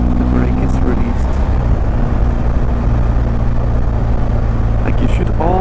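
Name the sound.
motorcycle engine accelerating on throttle riding downhill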